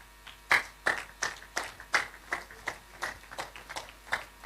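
An audience at a university Intellectual Property Day event claps steadily in sparse, separate hand claps as a guest walks to the high table, with no voices over it.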